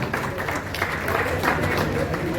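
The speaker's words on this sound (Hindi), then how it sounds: "जोरदार ताली से एक बार करेंगे।" Steady applause from the audience at a Uttarakhand community gathering follows a bouquet being presented to a guest, with dense clapping under speech throughout.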